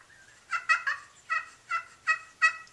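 Wild turkey hens call during a spring turkey hunt, a series of about seven bright, rhythmic yelps at moderate distance, spaced evenly and heard clearly with no talking.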